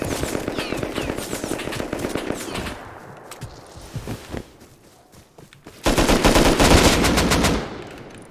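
Bursts of automatic gunfire in the survival game Rust, a loud sustained volley at first, scattered shots in a lull, then another dense close-range burst near the end.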